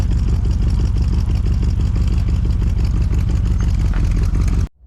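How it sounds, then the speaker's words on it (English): A Cadillac 500 cubic inch V8 idles close by with a heavy, lumpy pulsing rumble, then cuts off abruptly at the end. "So what you're hearing there is just this Cadillac 500 cubic inch engine."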